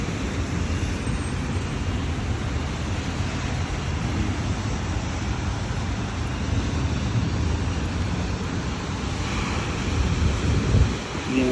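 Strong wind roars continuously in gusty buffets against the microphone on a rainy morning by a road, with a low rumbling wash and no clear voices.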